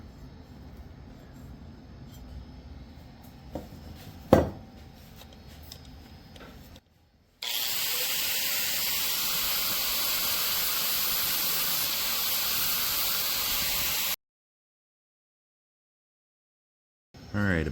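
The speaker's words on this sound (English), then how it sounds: "just going to continue grinding these down just to make that brow over the eye there" An angle grinder smooths down welds on a metal Viking skull sculpture, a loud steady hissing grind that runs for several seconds after a quieter stretch of faint shop noise, then cuts off abruptly.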